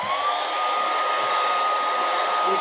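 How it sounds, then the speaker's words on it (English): A hair dryer blows steadily and loudly close by while drying batik-dyed fabric, a constant rushing whine with no pauses. "Put a hairdryer on it."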